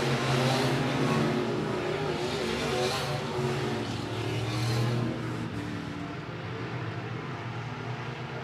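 Sport mod race cars roaring around the I-76 Speedway oval, a dense continuous engine din from several cars that swells and then eases slightly as the pack works through a corner.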